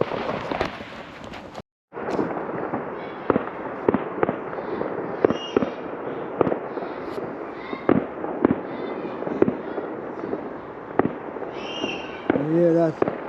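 Distant Bonfire Night fireworks over a park in Derby, UK, popping and booming in an irregular series of muffled bursts for the whole stretch, with a brief dropout near the start and crackling near the end.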